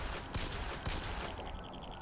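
Gunfire in the video game Bioshock Infinite: two sharp broadband shots about half a second apart, followed by a ringing, fading tail with a steady game background hum.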